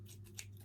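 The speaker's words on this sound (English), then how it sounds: "you just like snip it once it's closer" Scissors give a single quick, close snip as they trim hair extensions, set against a faint steady hum.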